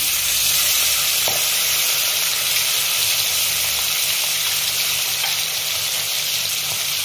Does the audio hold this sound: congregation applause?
no